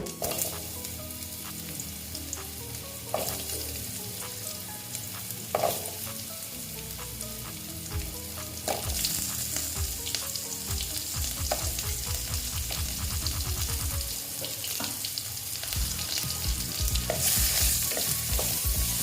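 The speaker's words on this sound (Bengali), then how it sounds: "আলুগুলো দিয়ে ভালো মতন আমি আলুগুলোকে ভেজে নেব" Raw potato pieces frying in oil for chana dal, a continuous sizzle with bursts of scraping and rattling as the pan is stirred, growing louder partway through, no voices.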